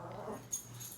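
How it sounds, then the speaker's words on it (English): An indoor dog gives a short, faint whimper, a single brief whine over quiet room noise. "hopefully these dogs can stay quiet for the rest of the time that I film this clip"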